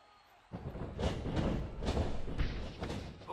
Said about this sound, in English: People is actually behind Licardi cheering him on.